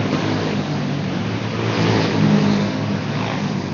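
Race cars in a BK7 heat race roar as one steady, loud engine drone that swells briefly past the midpoint before settling back.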